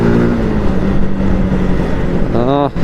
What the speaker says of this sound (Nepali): Check out the sound guys.